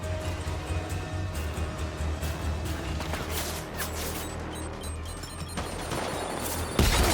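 Enemy gunfire and grenades in the video game Death Stranding, a dense, steady rattle of shots over a low rumbling bed, ending in a sharper loud blast.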